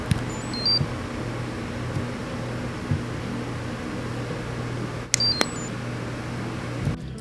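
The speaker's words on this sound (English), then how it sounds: "I added a small buzzer for those nice beeps and boops" A small buzzer on a DIY productivity computer gives two quick bursts of high, bright beeps and boops close to the mic, separated by a few seconds of quiet, over a low steady hum.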